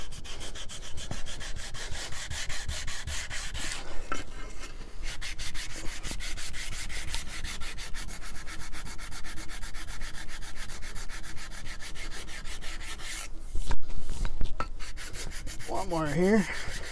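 Sanding a banjo fretboard by hand produces a continuous close scratchy rasp of steady back-and-forth strokes, with a short pause and a louder scrape near the end; no one speaks.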